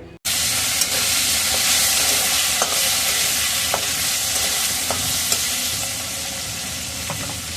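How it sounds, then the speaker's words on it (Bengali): Potatoes frying in hot oil in a kadai, a loud, close, continuous sizzle and hiss with scattered crackles and spits throughout. "আর ভেজে নেব আলু।"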